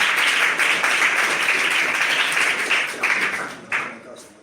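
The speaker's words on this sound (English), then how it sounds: "Please give them a round of applause." An audience at a school science quiz competition in Uyo, Akwa Ibom, claps in a broad, loud round of applause that fades out over a few seconds, followed by a last brief burst.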